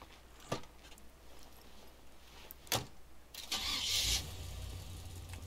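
A car engine cranks and starts in the zombie survival game State of Decay 2, with a few sharp clicks or thumps first, then a loud burst of starter noise that settles into a steady low idle.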